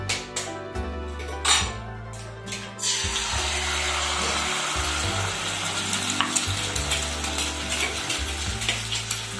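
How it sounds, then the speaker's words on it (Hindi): Egg frying in hot oil for a bhurji-style scramble, a loud continuous sizzle that starts suddenly after a few clinks and runs steadily, with a low hum beneath. "ऑयल ले लिया है, गरम करेंगे और इसमें अंडा फ्राई कर लेंगे"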